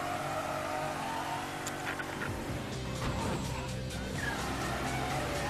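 Car engine revving and accelerating in the video game Mafia 3, a steady loud motor drone rising in pitch with brief tire or skid noises, no talking.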